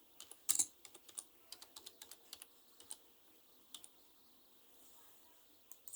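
Someone types on a computer keyboard nearby, producing irregular clusters of crisp key clicks with short pauses and no talking.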